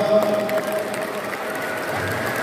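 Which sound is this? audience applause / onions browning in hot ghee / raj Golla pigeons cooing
audience applause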